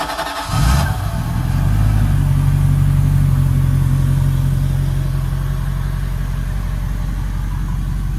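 Mercury Mag 350 starboard engine on a Donzi 28ZXO boat cranks briefly, catches and settles into a steady, loud, low idle rumble that runs on alone for several seconds.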